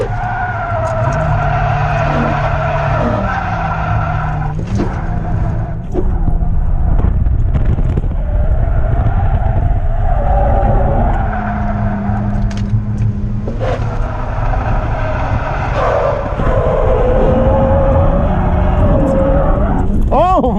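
A Mazda RX-8 drifts at Sonoma Raceway, the engine droning and shifting pitch with tire noise and wind buffeting throughout, while someone talks over it for most of the run.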